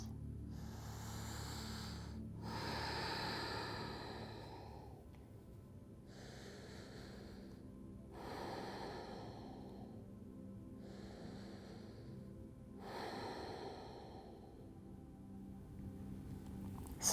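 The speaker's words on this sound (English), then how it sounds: "Take 3 more inhales and exhales." Slow, deep breathing during a yoga session, with several long audible inhales and exhales coming in an unhurried, regular rhythm, close and soft, with quiet gaps between breaths.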